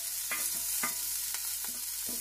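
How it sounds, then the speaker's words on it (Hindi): Green chili and parsley hit hot oil in a pan, giving a soft steady sizzle broken by a few brief stirring scrapes, close and alone. "अब हमने ऑयल ऐड किया है और अब हम इसमें डालेंगे ग्रीन चिली और पार्सले"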